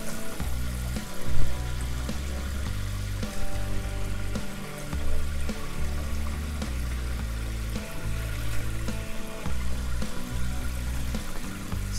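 Bean sprouts are rinsed under a running tap, giving a steady close stream of splashing water with small knocks and handling noises throughout and no talk.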